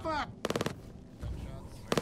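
Star Citizen video game gunfire comes in rapid automatic bursts, two clusters of fast, loud shots with a third starting at the end, with voices talking between them.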